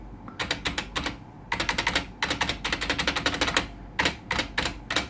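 Typing on a 1994 IBM Model M keyboard, rapid loud buckling-spring clacks in bursts with brief pauses, spacebar presses among them, close up and with no talking.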